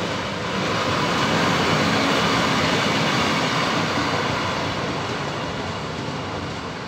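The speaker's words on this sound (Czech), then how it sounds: "Tak první vlak, který tady máme na nádraží v Lovosicích." A train rumbles steadily nearby at Lovosice railway station, Czech Republic, a broad continuous roar holding loud for several seconds before easing slightly.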